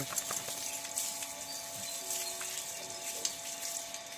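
Water runs from a pipe tap to fill a bath: a faint, steady hiss of flow with occasional small splashes, continuous throughout.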